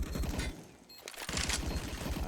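Rifle fire spraying through smoke on the Inferno map in Counter-Strike, with rapid bursts of automatic shots and a short lull between them, loud and close under busy game sound.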